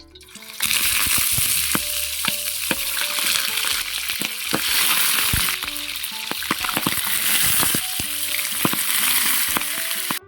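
Bangus fish with black beans (tausi) frying in a pan, a steady loud sizzle running throughout with scattered clinks and scrapes of stirring utensils.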